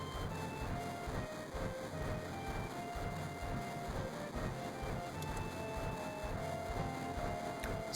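A moving train in Final Fantasy VII: a steady, low rumbling rail noise that holds constant throughout, faint and continuous with no talk over it.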